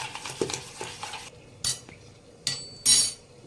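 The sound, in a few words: spoon beating semolina dhokla batter in a bowl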